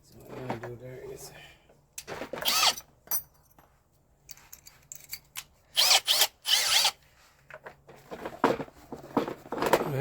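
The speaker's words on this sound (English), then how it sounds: "I'm just gonna put the drill on and then like push it down here." A handheld power drill enlarges a mounting hole while under-glow LED lights are fitted to a Nissan Rogue. It comes in several short, loud whirring bursts, with a person talking in the gaps.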